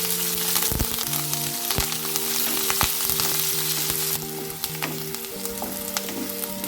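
Onions and curry leaves frying in a pan for a Vallarai keerai poriyal, a steady close sizzle with scattered crackles and pops and occasional scrape-like stirring bursts, no voices.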